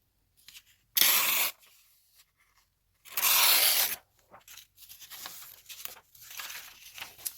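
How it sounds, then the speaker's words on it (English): Paper being cut for a junk journal made from a repurposed hardcover book: two distinct crisp, rasping cutting strokes close up, followed by softer rustling and handling of the paper. "So I'm gonna cut this paper"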